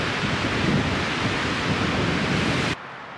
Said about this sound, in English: It's just kind of thin overcast. and gusty winds.